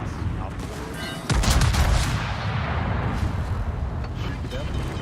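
Rapid gunfire and heavy booming rounds from a naval battleship video game in a rescue operation, dense and continuous under a steady low rumble of battle noise.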